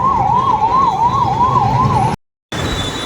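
An ambulance siren wails loud and near with a steady, rapid up-and-down warble in city traffic, cutting out abruptly for a moment before the tone returns.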